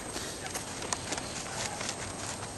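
A large rescue draft horse moves during a training session, its hooves clip-clopping in an irregular rhythm on the ground, fairly close and steady over a dull ambient hiss.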